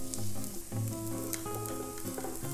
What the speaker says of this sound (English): we want to add sliced garlic to it and keep stir frying for another 2 to 3 minutes until they look golden brown